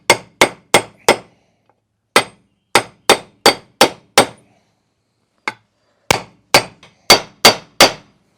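A bearing is hammered into a 2021 Yamaha YZ250F dirt bike engine with sharp metallic blows, close and loud, coming in quick bursts of four or five with short pauses between them.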